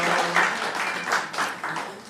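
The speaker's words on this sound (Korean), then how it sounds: "우리 박수 한번 쳐주세요." A church congregation claps, a warm, moderately dense round of applause that swells in short waves and carries on steadily for about two seconds without speech.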